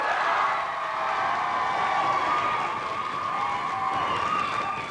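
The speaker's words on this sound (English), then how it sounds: "Another round of applause, please," Studio audience on the 1992 Blockbusters quiz show gives a round of applause, a dense, steady wash of clapping that holds evenly throughout with light cheering mixed in.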